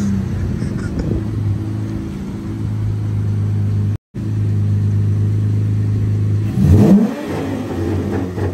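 Chrysler 300 SRT engine cranking and idling with a steady deep rumble, a brief cut of silence, then a sharp loud rev surge near the end before settling back to idle.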